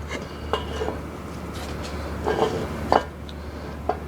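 Metal parts clinking and tapping while a 7.3 Powerstroke high pressure oil pump is removed: scattered light metallic clanks and scrapes over a low steady hum.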